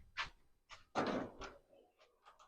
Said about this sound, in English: So let me open the door.